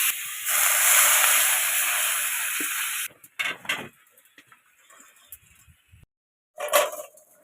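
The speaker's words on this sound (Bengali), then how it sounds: "একটু নেড়ে চেড়ে এবার জল দিয়ে দেবো।" Water poured into a hot pan of frying green peas and slit green chillies hisses loudly for a few seconds, then fades into scattered stirring sounds and a brief later sizzle.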